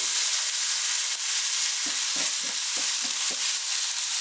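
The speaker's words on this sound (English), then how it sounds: "Give that a good stirring up like that." Hot pickled cabbage kimchi is stirred in a pan, with a constant bright sizzle and several sharp scraping knocks of the utensil in quick succession, close and alone.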